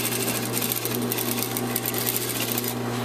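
A sewing machine runs steadily, back-stitching along the front facing seam of a shirt, a close, continuous rapid mechanical whir with a low motor hum and no talk.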